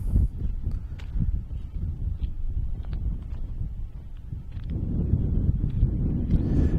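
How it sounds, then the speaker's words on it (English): Strong wind buffets the microphone at an abandoned concrete Cold War military site, a steady loud rumbling roar with gusts that swell stronger toward the end. "It was really windy when I filmed this, so I've turned the volume down a little bit."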